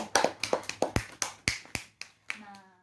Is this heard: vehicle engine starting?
no